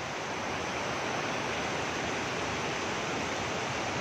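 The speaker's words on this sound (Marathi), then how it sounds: "चिपळूण तालुक्यामध्ये हा चिपळूणमध्ये हा धबधबा आहे" Savatsada waterfall near Chiplun, Maharashtra, swollen in the monsoon rains, a dense unbroken roar of falling water, loud and constant throughout with no voices.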